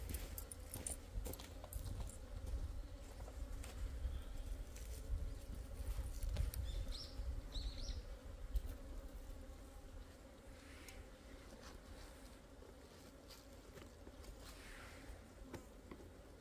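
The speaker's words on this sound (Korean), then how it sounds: "요거는 제 봉장에 분봉 들어온 벌이에요." Honeybees at a beekeeper's apiary in late November, from a swarm that settled into the yard: a steady, faint insect hum and buzzing carries throughout, with no voices.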